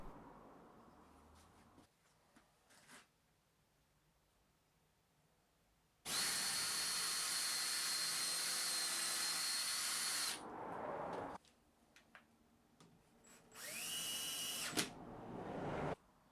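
A power drill drives screws into wood pieces while a mitre saw station is assembled: one loud, steady whirring burst of about four seconds, then a shorter burst that winds up in pitch, with quiet workshop handling noises between.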